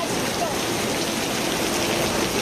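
Steady afternoon thunderstorm rain during a hot, unstable spell in Taiwan, a dense even wash of falling water that holds at constant loudness throughout and cuts off abruptly at the very end.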